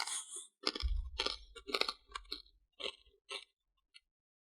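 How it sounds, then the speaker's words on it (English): Loud, close crunching of crunchy food, a string of sharp irregular bites and chews that thins out into a few isolated crunches, with no talking. "It's so loud chewing, I can't hear myself think"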